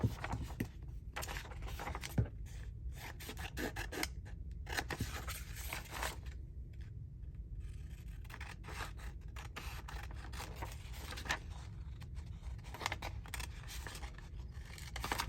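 Scissors cutting across a sheet of paper, a series of quick snipping and slicing strokes with rustling paper, quiet and close, alone without talk.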